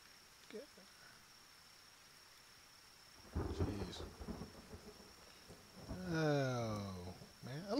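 Thunder rolls and rain falls in the acid-rain deadlands of the Kenshi video game. A faint low rumble comes first, then louder crashes build toward the end over steady background noise, with no talk.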